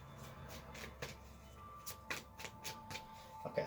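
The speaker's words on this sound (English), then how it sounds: "Alright, a couple more shuffles here." Tarot cards being shuffled by hand indoors, a run of quick crisp riffles and soft slaps that come in uneven bursts, close and fairly quiet.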